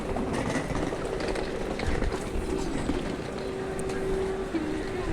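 Inside a moving passenger train wagon, a steady low rumble and rolling rattle fill the space, with a faint tonal hum, while a person talks over it.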